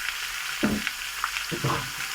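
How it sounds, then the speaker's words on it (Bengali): Salted star fruit fries in spiced oil with a continuous close sizzle, broken by a couple of soft stirring scrapes. "এটা দিয়ে আমি একটু হালকা করে ভাজা ভাজা করে নেব।"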